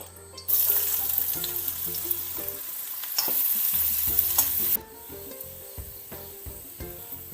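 Three small chopped onions (shallots) fry in hot oil for a Kerala medicinal karkidaka kanji, giving a loud, steady sizzle with stirring clinks that drops to a quieter crackle about two-thirds through.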